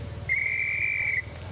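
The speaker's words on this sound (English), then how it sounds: "Team sent on their way with a whistle" A single sustained, shrill whistle blast, clear and moderately close, sends a cycling team off at the start of a Tour of Türkiye race stage, with a faint low rumble beneath.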